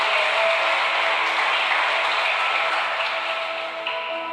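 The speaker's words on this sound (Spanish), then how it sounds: "¿Cuántos le dan un aplauso al Señor?" A church congregation applauds the Lord in steady, sustained clapping that holds at an even loudness, easing off slightly near the end.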